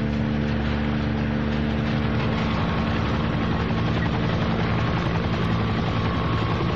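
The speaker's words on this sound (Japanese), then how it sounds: "不意にヘリコプターが一機上空に現れた。" Helicopter rotor drone with steady blade chop over a constant engine hum, loud and continuous throughout as a sound effect in a Japanese mystery audiobook reading, with no voices.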